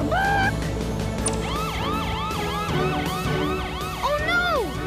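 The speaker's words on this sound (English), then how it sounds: "Turn on the siren!" A wailing siren sweeps up and down in rapid repeated cycles, loud and close, with brief shouts and other noises mixed in around it.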